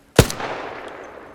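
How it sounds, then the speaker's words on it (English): A single sharp, loud gunshot in the video game ARC Raiders cracks close by and then echoes away in a fading reverberant tail. "Here's the sound of gunfire"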